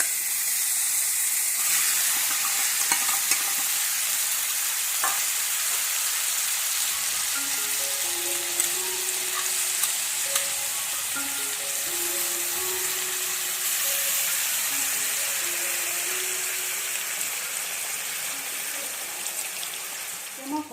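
Stored milk cream cooking in a hot wok on low flame for ghee hisses steadily and loudly, with a faint tonal hum drifting underneath in the second half.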